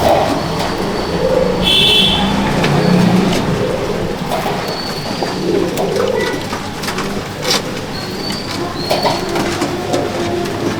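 Madrasi pigeons coo in a full loft, soft repeated coos under a steady bed of rustling and faint bird noise, with occasional sharper chirps and clicks, moderately loud and continuous.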